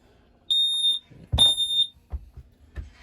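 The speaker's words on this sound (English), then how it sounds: "Right above that, you're going to find your fire alarm." Two shrill electronic beeps from a smoke alarm in a 2005 National Sea Breeze 8360-A motorhome, each about half a second, followed by a few soft thumps and clicks.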